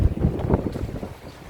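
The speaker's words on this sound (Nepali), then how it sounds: "रुखमुलाको भाँजलाई जति गरेर हावा चलेको छ त" Strong wind blows outdoors on a snowy day in Okhaldhunga, loud gusty rumbling buffeting the microphone in surging bursts, then easing slightly.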